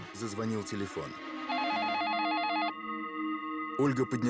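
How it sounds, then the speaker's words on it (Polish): An electronic telephone rings with a warbling synthetic tone that settles into a steady chime, with a voice speaking before and after the ringing. "Nagle zadzwonił telefon."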